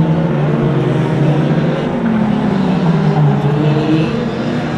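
Production saloon race cars, including a Nissan, racing at Oceanview Speedway: a loud, continuous roar of several engines at close range, steady throughout without any clear passes or talk.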